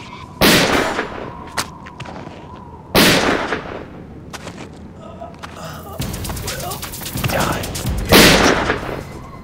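Several loud gunshots crack out in a tense film standoff, sharp blasts spaced a few seconds apart amid shouting and agitated voices.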